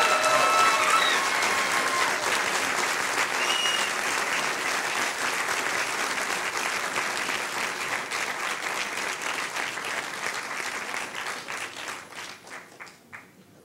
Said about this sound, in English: One more huge round of applause for the Yes Men.